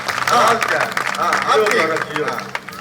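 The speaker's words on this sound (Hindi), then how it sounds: "एक बार भाई जोरदार तालियां बजाइए कि लगे सम्मेलन हो रहा है।" Applause from the audience at a Hindi kavi sammelan poetry gathering, a rattle of clapping mixed with voices and laughter, moderately loud and fairly close.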